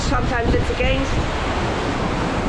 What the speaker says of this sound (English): You see, they're all kind of short waves, long waves. They're coming from two different directions.